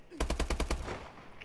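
A quick burst of about six rapid assault rifle shots in Call of Duty: Advanced Warfare, loud and close, ending in a short fading tail.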